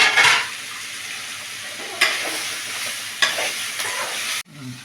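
Coconut pieces sautéed in a pan for pirandai chutney give off a soft steady sizzle, with several scraping stirs of a utensil against the pan, then a sudden cutoff near the end.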